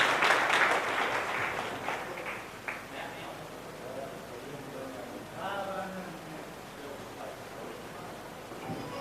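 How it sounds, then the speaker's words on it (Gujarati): An audience claps at an honouring ceremony, the applause strongest at the start and then thinning out while voices talk faintly underneath. "જોરદાર તાળીઓ અમારી અંકિતા માટે."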